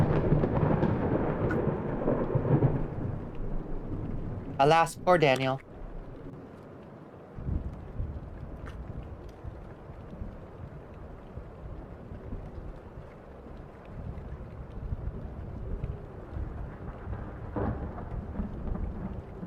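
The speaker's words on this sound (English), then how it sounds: "I think I need a room like this with thunder crashing occasionally in the background" Thunder crashes in the video game Hypnagogia: one sharp, loud crack with a long low rumble, then steady rain and wind-like noise rolling on in the background, with a brief spoken line mixed in.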